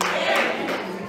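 A church congregation clapping together during a COGIC service, a brief, dense burst of many hands close by.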